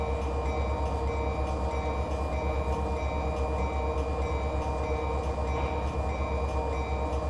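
A CSX auto rack freight train rolls past in Run 8 Train Simulator, a loud, steady rumble of wheels with rhythmic clacking and a constant engine hum close by.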